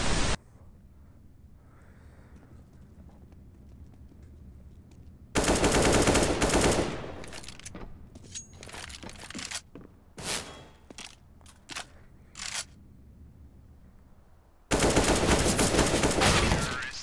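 Bursts of rapid automatic gunfire in Counter-Strike: Global Offensive, two long loud volleys plus scattered shorter shots and bangs, separated by quieter game ambience.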